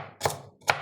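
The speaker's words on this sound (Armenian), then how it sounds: "հիմա էլ կտրտում եմ, առաջինը կտրտում եմ գազարը, հետո սոխը" A kitchen knife chopping carrot and onion into small cubes for vegetable soup: two crisp, close cuts a half-second apart, each landing with a solid knock on the board.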